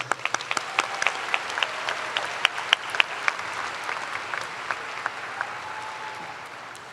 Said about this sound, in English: One more round of applause for Chris.